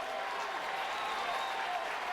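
A baseball crowd at a college game between Florida and Georgia cheers and applauds as it rises to its feet, a dense, steady roar of clapping and voices that stays loud and even throughout.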